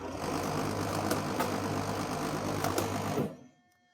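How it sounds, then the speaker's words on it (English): The hydraulic bed conveyor on a Wood-Mizer WM4000 thin kerf headrig runs with a loud, steady mechanical drone and hum plus a few brief clatters, then cuts off abruptly near the end. "the hydraulic bed conveyor will actually activate."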